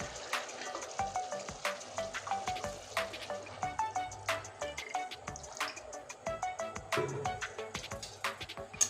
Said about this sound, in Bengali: এখন আমি পরিমাণ মতো জল ঢেলে দিচ্ছি